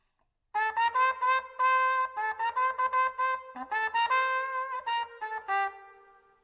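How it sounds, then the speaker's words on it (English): A trumpet in its middle register plays the melody of a jazz tune, a lively run of short articulated notes, solo and close. "In the trumpet or middle register,"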